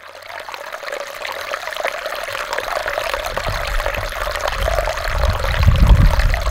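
A small waterfall in San Francisco runs as a thin trickle, a steady, close splashing and pouring that grows slightly louder toward the end.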